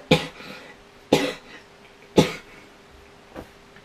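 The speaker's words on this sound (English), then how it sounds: "I hate coughing." Three sharp, loud coughs about a second apart, followed by a fainter fourth cough, each a short harsh burst with a little throat-clearing rasp, close to the listener in a quiet room.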